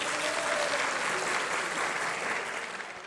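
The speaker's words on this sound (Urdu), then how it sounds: "کیا کریں؟ تالی بجا." Dense, steady clapping from an audience at a motivational youth leadership talk, a continuous full wash of applause that fades slightly toward the end.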